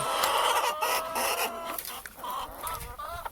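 Several hens cluck and chatter close by in a busy, overlapping flurry, with no talking.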